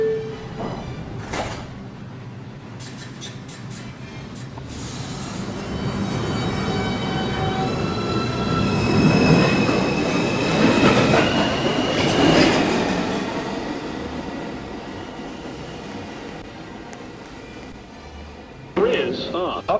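An automated NYC subway 2 express train pulls out of Lincoln Center station, a rumbling roar with clickety-clack that swells and fades, as automated announcements and platform voices carry over the noise.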